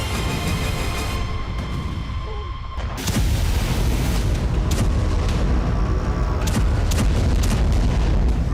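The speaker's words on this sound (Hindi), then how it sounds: "ओडेसा में 2 दिनों से धमाके हो रहे हैं।" Explosions in Odesa during the Russia-Ukraine war: continuous heavy rumbling with a sharp low boom about three seconds in, followed by scattered distant blasts under a steady roar.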